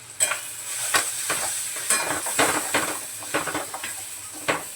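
Spiced peas and paneer masala are stir-fried in a pan, with a sizzling hiss broken by a run of close, rhythmic spatula scrapes and clinks against the metal.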